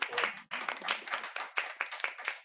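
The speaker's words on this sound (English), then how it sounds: "I would like to give a round of applause to all of you" A small crowd claps and applauds continuously, the hand claps dense and fairly close, with a short dip before picking back up.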